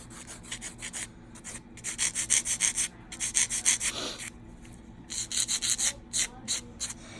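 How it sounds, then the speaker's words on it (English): A nail file shaping a fingernail rasps in quick back-and-forth strokes, close and clear, in rhythmic groups with short pauses between them. "I'm moving my nail file and kind of flicking it this way"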